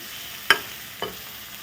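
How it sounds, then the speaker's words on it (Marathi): Spicy spice paste being stirred in a pan for tempering, with two distinct scraping clinks of a spoon against the pan over a faint steady sizzle, close by and with no speech. "आपण जरा परतून घेऊया म्हणजे चांगली खमंग फोडणी"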